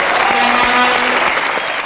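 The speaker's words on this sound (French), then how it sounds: "On applaudit Laurent Baffy encore une fois" Loud, dense applause from a TV studio audience on Laurent Baffie's French talk show, a steady wash of clapping that fills the whole short moment, with a faint voice briefly audible beneath it.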